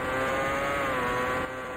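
Race car engine at high revs in the Indycar Racing II video game, set in the 1989 CART Cleveland Grand Prix, a loud sustained whine holding steady before easing off slightly at the end, with no talking.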